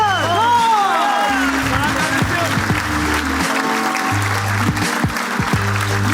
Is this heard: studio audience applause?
yes